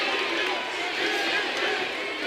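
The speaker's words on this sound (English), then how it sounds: "The crowd is really getting with DDP right now." A wrestling arena crowd roars steadily for DDP at a WCW Thunder event, a loud sustained wash of cheering with a commentator's voice over it.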